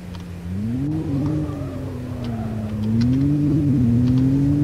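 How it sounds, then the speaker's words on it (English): A Ford Maverick pickup truck in the Roblox game accelerates hard, its engine note rising and holding in a loud, steady drone that climbs again toward the end. "when we go from here, I can tell that's like a really fast truck."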